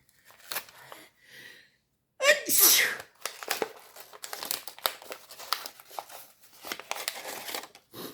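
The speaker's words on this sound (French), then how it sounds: "C'est énervant d'éternuer comme ça, si vous saviez." A single sharp sneeze bursts out near the start, surrounded by soft paper crinkling and rustling with a few murmured words.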